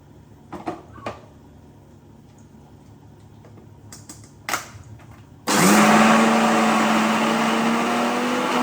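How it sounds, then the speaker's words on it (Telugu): A few soft knocks and clatters, then a mixer grinder starts abruptly and runs loud and steady, whirring and grinding soaked lentils to the end. "ఇలా కొంచెం కొంచెం మిక్సీ పట్టుకోవాలి"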